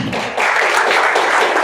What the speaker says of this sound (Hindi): चलिए उनके लिए एक ताली बजा दें